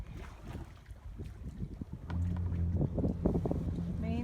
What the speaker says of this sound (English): Hola, we are sailing. No engine,